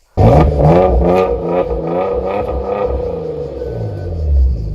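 A 2016 Porsche Macan GTS engine starts up and revs hard close by, a deep throaty roar that holds and swells again near the end.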